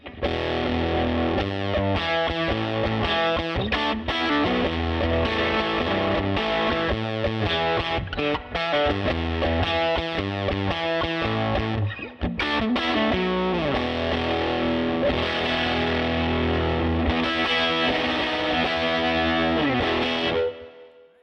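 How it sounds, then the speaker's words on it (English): Electric guitar played through a Tweed amp model on a Fractal FM3, a Deluxe Tweed preset, continuous driven chords and riffs with a gritty, saturated tone, loud and sustained throughout with only brief gaps. "We dialed in the Tweed amp on the Fractal. This is the FM3."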